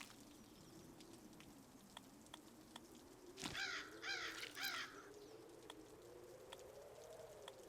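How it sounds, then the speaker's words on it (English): Crows caw in the video game Zero Sievert, a short burst of three harsh calls in the middle over a quiet ambient hum, with scattered faint ticks before and after. "Oh, fucking crows."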